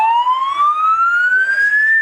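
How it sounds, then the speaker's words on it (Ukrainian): A loud emergency-vehicle siren on a city street wails in one long rising tone, close and continuous with no voices over it. "І чу чути сирену."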